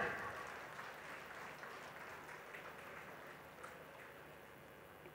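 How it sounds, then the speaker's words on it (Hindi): A meditation gathering audience applauds in a soft, continuous patter of many distant hands, fairly faint and steady with little variation. "जोरदार तालियां"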